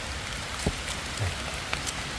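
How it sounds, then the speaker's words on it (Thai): Steady rain falls outdoors on a hillside during mushroom foraging in Thailand, a soft, even hiss of drops with a few louder nearby taps. "โอ้ฝนฝนตก ฝนตกจ่อยพี่น้อง"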